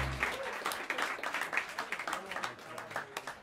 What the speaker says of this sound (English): Another round of applause for the great Aaron Goldberg tonight